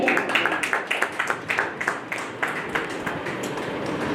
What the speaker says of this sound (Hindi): तो इनको सभी एक जोरदार ताली से स्वागत कीजिए